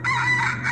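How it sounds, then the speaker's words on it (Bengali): A rooster crows once in a single drawn-out, bright call, clear and sustained, used as a sound effect in a Bengali horror cartoon. "অনেক দূর থেকে যেন মোরগের ডাক ভেসে আসছে।"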